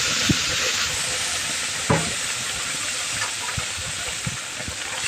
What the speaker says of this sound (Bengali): ওর মধ্যে মশলাটা আমি ঢেলে দিলাম